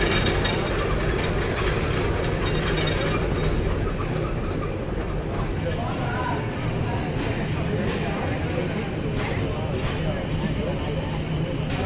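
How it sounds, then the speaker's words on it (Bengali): A train pulling out of Bidyaganj railway station on a Dhaka–Jamalpur run, a steady loud rumble of wheels and engine with rattling carriages that holds throughout, with faint voices in the background. "দুপুর 2:22 ট্রেন ছেড়ে গেল বিদ্যাগঞ্জ রেলওয়ে স্টেশন"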